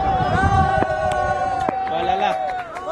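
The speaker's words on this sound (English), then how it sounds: "That's why the crowd are on their feet." Stadium crowd at a Pakistan Champions vs South Africa Champions World Legends cricket match roaring and cheering on their feet, a loud sustained hubbub with whoops, under a commentator's voice.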